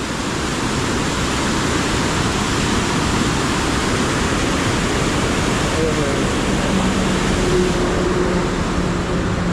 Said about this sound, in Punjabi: ਉਸੇ ਨੀਚੇ ਦੇਖੋ ਯਾਰ ਪਾਣੀ ਦਾ ਫਲੋ ਕਿੰਨਾ ਤੇਜ਼ ਹੈ